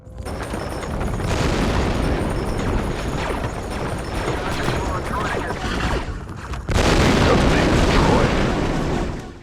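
Dense, continuous blaster and gunfire with booming blasts fills the scene in the video game Star Wars: Republic Commando, a sustained chaotic firefight that swells louder near the end.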